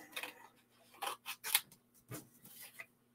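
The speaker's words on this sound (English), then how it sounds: "Then I'm going to fussy cut around this." Scissors fussy-cut around a paper craft piece for a stamped owl easel card, a close, quiet series of short crisp snips in an uneven rhythm with small pauses between cuts.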